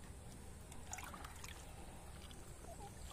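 Faint water trickles and splashes softly onto potted chili and vegetable plants in polybags against a quiet outdoor background, a gentle irregular dribble with no talking.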